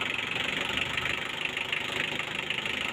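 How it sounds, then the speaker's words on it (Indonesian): Small diesel engine idling steadily just after starting, a continuous close rumbling drone with a slight rhythmic knock, alone with no voices. "Nah, langsung start. Nah, langsung hidup lur."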